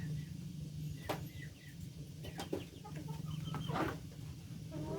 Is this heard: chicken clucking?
yes